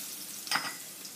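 Onion with mustard seeds softening in a hot pan while making samosa filling, a brief low sizzle that swells for a moment and fades, heard alone without talk.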